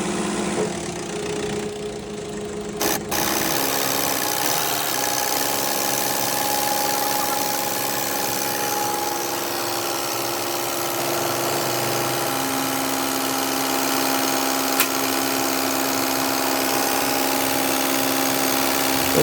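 A Mahindra Arjun Novo 605 diesel tractor engine idles steadily with a rough, knocking throb. A brief clatter comes near the start, then a constant drone.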